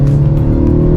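MINI JCW Countryman All4 on a race track, its engine and exhaust giving a loud, steady droning roar with a strong low hum held for about a second, no voices.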